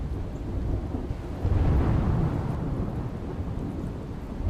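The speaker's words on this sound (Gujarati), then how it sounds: "જાફરાબાદના દરિયાકાંઠે પવન સાથે વરસાદ પણ થયો।" Heavy rain driven by wind on the Jafrabad coast of Gujarat, a steady loud roar of downpour and gusts with a surge of intensity midway and low rumbling throughout.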